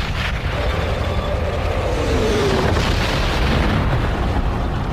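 A grenade launcher round strikes a tank in a Vietnam War battle, a loud heavy blast that rolls on as a sustained rumbling roar with some higher debris noise, close and dense throughout.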